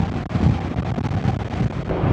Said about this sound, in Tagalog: Medyo malakas yung hangin galing sa gilid.